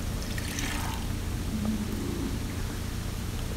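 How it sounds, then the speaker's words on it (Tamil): Water is poured into vegetable masala in a pan for a mutton keema and turkey berry flower gravy, giving a steady broad hissing rush that runs evenly throughout. "காய்கறி மசாலா எல்லாம் நல்லா வதங்கிறதுக்கு கொஞ்சம் தண்ணி ஊற்றிக்கலாம்"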